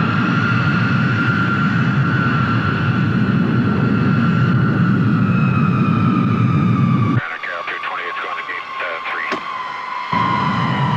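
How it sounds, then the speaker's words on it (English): An airliner taxies toward the runway, its jet engines whining steadily with a loud broadband roar and sustained tonal hum; the roar drops away partway through, leaving the engine whine under a brief exchange of voices. "you're cleared to taxi Bravo to runway 24 and hold"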